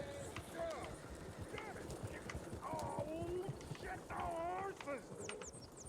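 Horses in the video game Red Dead Redemption 2: hooves clip-clop in a fast, busy rhythm while horses whinny now and then, and voices talk over the steady trampling.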